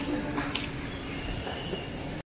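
Train rumble at a railway station, a steady low mechanical roar with faint metallic clanks and wheel squeal, continuous and fairly near before cutting off abruptly.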